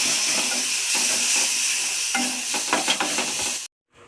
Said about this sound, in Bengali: এটা দিয়ে এবার এটাকে একটুখানি নেড়ে নেব